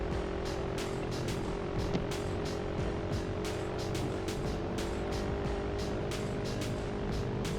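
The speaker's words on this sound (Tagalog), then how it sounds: "Talagang masasubukan mo talaga yung motor mo dito sa akyatan." A motorcycle engine strains steadily up a steep uphill road near Aguilar, Pangasinan, a continuous loud drone with no letup and rapid, evenly spaced ticking layered over the top throughout.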